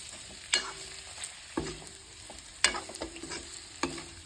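Leafy greens stir-fry with ground spices and pork in a hot pan. A constant sizzle runs underneath, with four or five sharp scraping strokes of a spatula spaced about a second apart.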